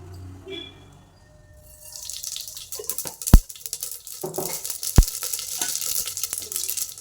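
Mustard seeds hit hot oil in a pan at home, crackling and sizzling louder after a quiet start, with two sharp pops standing out among the spatters.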